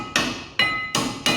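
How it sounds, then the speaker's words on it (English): Four sharp metallic hammer strikes pushing out brake pads on a LADA Niva, at a steady, unhurried pace, each ringing briefly before fading, close and loud. "use your hammer and push them out."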